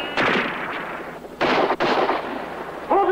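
Gunfire during a hostage standoff, a few sharp, loud shots in separate bursts that carry close and harsh, with a short voice-like sound at the very end.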